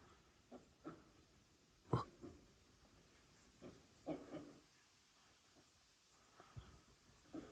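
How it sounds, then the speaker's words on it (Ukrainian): Scattered low grunts and snorts of a herd of pigs in a Carpathian lowland forest, faint and somewhat distant, coming in short irregular bursts over a quiet outdoor background. "Там свині так рьохкають, капець."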